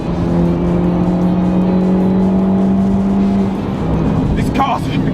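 An Abarth 595 Competizione hot hatch accelerating hard, its engine holding a steady loud drone from inside the cabin, with a voice breaking in near the end.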